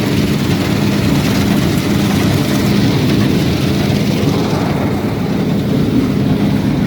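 A combine harvester engine idles while waiting in a wheat harvest field, heard from on board as a loud, steady low drone that runs unbroken throughout.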